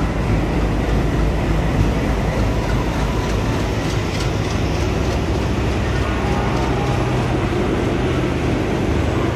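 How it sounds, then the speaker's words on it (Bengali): Howrah–New Delhi Duronto Express rolling into platform 9 at a busy station, giving a loud, steady rumble and rattle of wheels and carriages that fills the whole stretch without pause. "সো ফাইনালি 9 নম্বর প্ল্যাটফর্মে আমাদের ট্রেন ঢুকছে"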